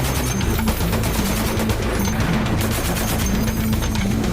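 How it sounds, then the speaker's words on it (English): M2 Browning heavy machine gun firing continuously from a Mark VI combat boat, a loud sustained stream of rapid shots with dense, booming reports and no pauses or voices. "they switch to a classic M2 Browning."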